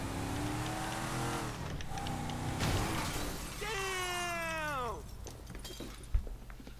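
Glass shatters as a car drives through a window in the GTA 5 video game, a crash heard alongside engine revving and a car sweeping past, with voices and a sharp thud near the end.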